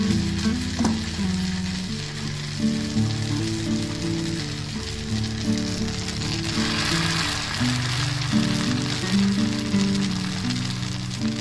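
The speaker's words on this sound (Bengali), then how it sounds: "কম কম আগুনে আমি ছানার বড়া বানাই।" Chhana (cottage cheese) fritters fry gently over low heat, a continuous close sizzle with soft bubbling crackle that keeps up for several seconds without talk.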